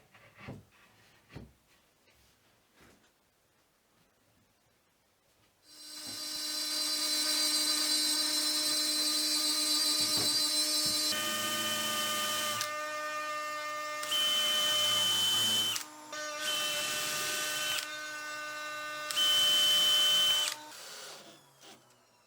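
A power driver sinks screws into a wooden jig fence. It runs with a sustained whine for several seconds, then drives in a series of separate bursts that stop and start, close and loud.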